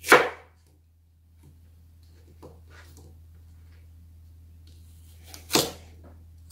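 A knife cuts carrots on a board for a juice recipe. Two sharp, close chops land several seconds apart, with faint softer knocks between them in a quiet kitchen.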